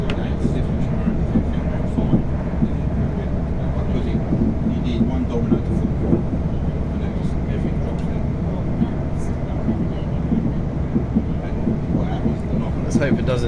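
A South Western Railway train runs between stations on the London Waterloo to Weymouth line, giving a steady, loud low rumble of wheels and motors throughout, with faint clicks and passengers talking in the background.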